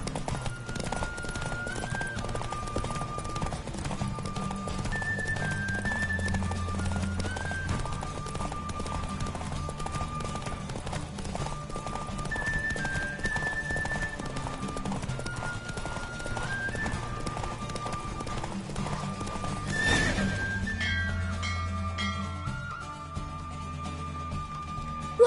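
Hooves clip-clop in a steady galloping rhythm throughout, layered under a melodic game score, with a brief whinny-like swell near the end as the horse rides in The Witcher 3.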